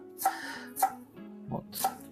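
A knife taps sharply on a cutting board three times at a slow, even pace while finely chopping dill, with a soft thud between, close and moderately quiet.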